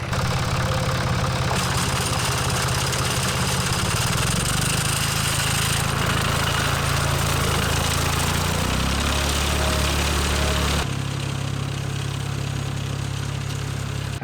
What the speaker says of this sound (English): So this yellow thing over here is a drive shaft that basically turns a belt that powers this cutter.